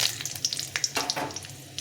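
Fenugreek seeds fry in hot oil for a bottle gourd dal, giving a steady close sizzle with small crackling pops scattered throughout.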